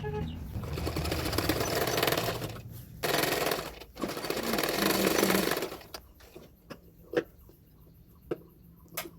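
A sewing machine stitching the neck of a blouse runs in loud, close, continuous whirring bursts for several seconds with short pauses, then stops, leaving a few sharp clicks and taps.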